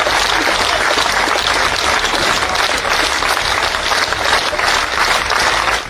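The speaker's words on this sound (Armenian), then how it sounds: "Աջակիցները ծափարություններով են ճանապարհել Ծառուկյանին։" Supporters clapping for Armenian politician Gagik Tsarukyan as he is taken to a penal institution, a dense, loud crowd applause running steadily throughout.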